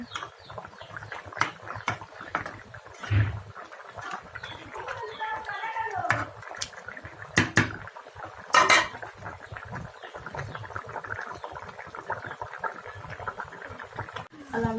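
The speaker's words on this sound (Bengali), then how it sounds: "আমি টমেটো ভাজির জন্য কেটে নিচ্ছি আর এদিকে আমার তরকারিটা ফুটছে" Tomatoes are chopped in a home kitchen while curry simmers, with irregular knife knocks and metallic clinks of pots and utensils at close range, mixed with people talking nearby.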